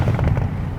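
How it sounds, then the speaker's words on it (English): Bentley Continental GTC Speed V8 with a cross-plane crank, its exhaust letting out a quick burst of loud, close pops and bangs in under a second. "It's got a deep cross-plane crank burble. It's loud, it crackles, it pops, it bangs."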